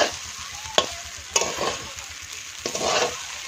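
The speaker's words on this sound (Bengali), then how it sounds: "তো এই দেখো ভালো করে লাড়া দিতে হবে" Biryani-style fried rice is stirred in a pan with a soft continuous sizzle beneath, broken by three sharp scraping strokes of the spoon against the metal, close and moderately quiet.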